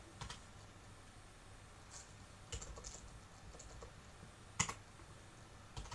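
Computer keyboard typing while entering a landing-page link for a campaign: sparse, soft key clicks with a few sharper taps, close and quiet over faint room hiss, no voices.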